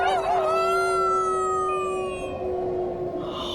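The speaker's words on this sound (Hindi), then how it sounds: "और अचानक से हमें कुत्ते के रोने की आवाज सुनाई दी।" A dog howls in one long, loud, wavering tone that slowly falls in pitch and fades over a few seconds, heard alone.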